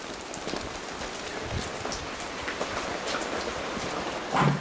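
Rain falling outside in January, a dense, steady patter of drops on surfaces at close range, continuous and moderately loud throughout, with a slightly louder gust of splashing near the end.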